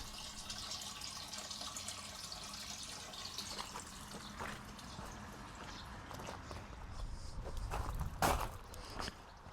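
Steady running water from an 18V battery stick pump transferring water from a tank into barrels, a soft, continuous flow rising briefly to a louder gush near the end; no voices.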